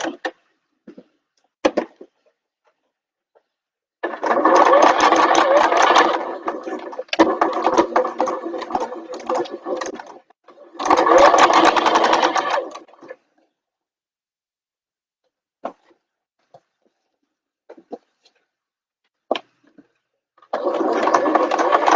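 Sewing machine stitching a bag with a zipper and bulky main fabric, running in several loud close bursts of rapid whirring stitches, with backstitching and short pauses with small handling clicks between runs.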